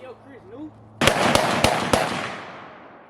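A PSA Dagger pistol fires four sharp gunshots at a steady pace, loud and close, following a second of quiet low hum, with the reports trailing off into a fading outdoor echo.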